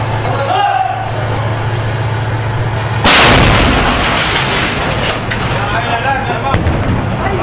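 A single loud artillery blast booms suddenly during fighting in Al Kabun, Syria, its rumble rolling on for several seconds while someone speaks over it.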